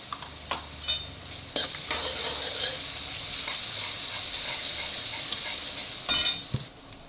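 Turmeric stirred into sautéed onions frying in a pan, a steady sizzle with a few sharper spoon scrapes and clinks, close and fairly loud, no talking.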